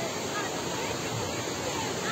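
Curug Niagara Cipamangkis, a wide waterfall on the Cipamangkis river in Jonggol, gives a steady, dense rush of falling water, with a faint murmur of voices.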